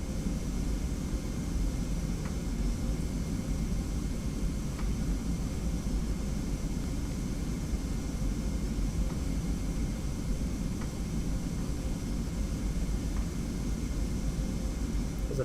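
A Delta Airlines CRJ 900 airliner taxiing in the Prepar3d v3.4 flight simulator: a steady, unbroken engine roar and rush, even in loudness throughout, with no voices.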